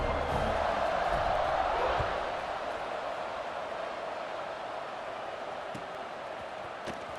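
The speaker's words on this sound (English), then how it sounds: "this crowd now ready to get behind them" Stadium crowd roaring in the College Football 26 video game before a kickoff, a broad loud cheer that eases into a lower sustained crowd murmur.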